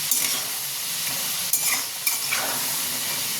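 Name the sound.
potatoes frying in pan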